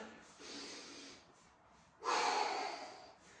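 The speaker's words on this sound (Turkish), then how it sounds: "Tekrar burnundan nefes al." A person doing a Pilates resistance-band workout draws a deep breath in through the nose, first a softer airy inhale, then a louder, sharper nasal intake after a short pause, close and clear with no speech.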